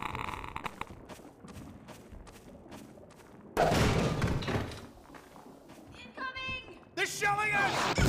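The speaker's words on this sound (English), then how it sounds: "They're shelling us!" Artillery shells exploding in Half-Life 2, a sudden heavy blast followed by rumbling impacts and debris, loud and near, with characters' voices shouting over the bombardment.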